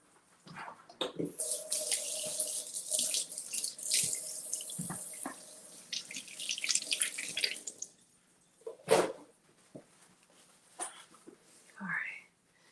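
Lemons rinsed under a running kitchen tap, a steady broad hiss of flowing water for several seconds, then brief splashes and drips after it stops, with occasional voice in the background.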